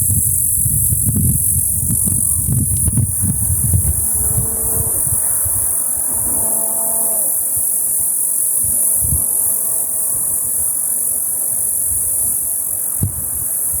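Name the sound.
cicadas singing in trees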